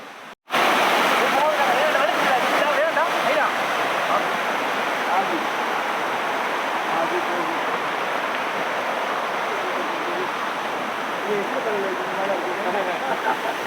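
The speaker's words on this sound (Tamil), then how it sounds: "தண்ணி இங்கே ஓடுது." A mountain stream on the Sathuragiri trek rushes steadily over rocks in a loud, continuous wash of water that starts abruptly and holds at an even level throughout.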